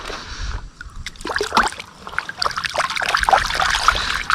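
Water trickles and splashes as cleaned fish are rinsed by hand in a Kerala kitchen or yard, with irregular sloshing bursts and dribbles, fairly close, no talk.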